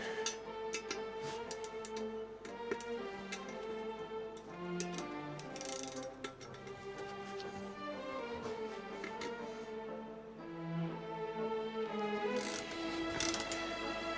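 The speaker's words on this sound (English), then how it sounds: "I'm going to just give it a try with ratchet first." A hand ratchet works on the rear wheel bolts of a Suzuki GSX-S125 motorcycle. It gives faint, rapid clicking in uneven bursts with a few louder metallic clanks, heard alone with no talk.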